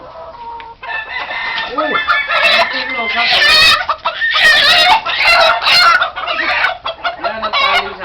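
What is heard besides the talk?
chicken clucking and crowing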